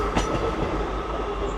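Class 158 diesel multiple unit 158754 passing through Doncaster station, a steady loud rumbling roar with wheel clatter and faint squeal, close by and continuous.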